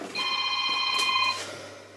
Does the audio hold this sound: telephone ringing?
yes